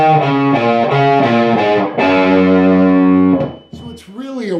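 Distorted electric guitar plays a short lick, a quick run of picked notes walking down a scale into a held note, loud and close, then trailing off with a brief slide.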